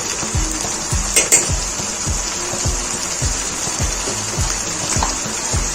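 Nigella seeds hitting hot oil for achari bhindi (okra curry), a continuous close sizzle punctuated by regular, rhythmic stirring scrapes about twice a second.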